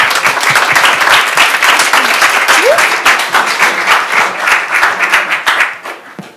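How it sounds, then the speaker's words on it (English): Sustained round of applause from a conference audience at an email marketing summit in Europe, dense clapping that holds steady and then thins out near the end, with a faint voice briefly audible beneath it. "Let's give these guys a round of applause."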